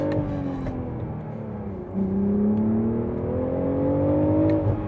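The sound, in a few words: 2025 BMW Z4 M40i manual launch from first gear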